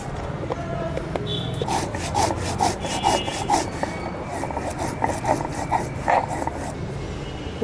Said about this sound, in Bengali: এখন হলো বেটে নিব মশলা। প্রথমে দিয়ে দিলাম জিরা